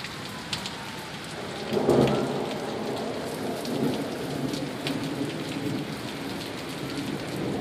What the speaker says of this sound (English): crazy storm we're seeing